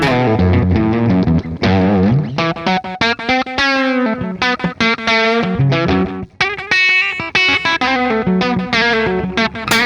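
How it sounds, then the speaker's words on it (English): Electric guitar plucked with the fingers through a slightly distorted amp tone, producing a busy, continuous run of clear, punchy notes with no pauses and no talking. "Let me incorporate fingers now. This is going to change the tone totally. Now I'm playing with finger style."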